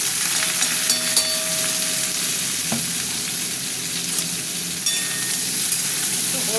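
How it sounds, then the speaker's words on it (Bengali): Pieces of young jackfruit, first steamed with turmeric and salt, fry in hot oil in a pan with a steady, close sizzle and a few clinks of stirring. "ভালো করে ভাজা হতে থাক।"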